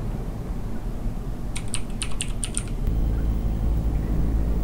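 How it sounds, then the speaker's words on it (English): Someone types the word Wooly on a computer keyboard in Amanda the Adventurer, a quick run of about half a dozen crisp key clicks over a steady low room hum. "And now it's going to make us type Wooly."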